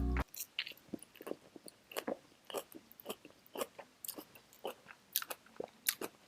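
Someone chews a spicy Southwest style salad from Chick-Fil-A close to the mic, with crisp crunchy bites and wet squishy chewing in an irregular rhythm, no talking.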